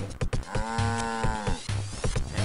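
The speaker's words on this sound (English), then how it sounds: "And there's still a cow in there." A cow moos in the video game Mother 3, a long drawn-out low call with a steady harmonic tone lasting over a second, surrounded by thumping game sound effects and no speech.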